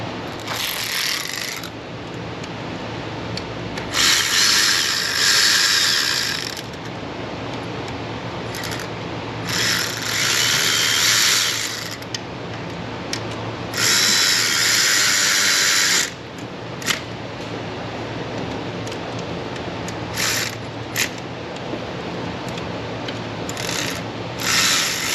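A ratchet wrench tightens the fuel injector fasteners on a 6.6 LBZ Duramax diesel in a Silverado, with repeated close bursts of fast clicking separated by pauses and softer handling noises.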